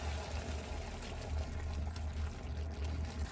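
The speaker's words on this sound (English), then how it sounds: "Just keep on adding your stock." Stock is poured into a pot of cooking pasta, giving a steady close liquid pour with a low bubbling rumble for a few seconds, no voices.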